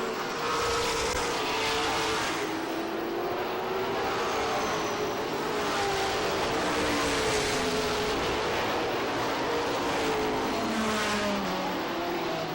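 Pro stock race cars circle the track in a 100-lap feature at Lee USA Speedway, a steady wash of engine roar with rising and falling passes running continuously throughout.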